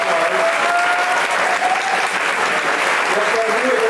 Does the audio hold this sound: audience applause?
yes